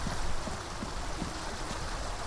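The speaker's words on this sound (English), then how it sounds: "It's just a waterfall, nothing here." Steady rushing water from a waterfall in the Resident Evil 4 remake, a continuous broadband roar with gurgling undertones, moderately loud and uninterrupted, with no voices.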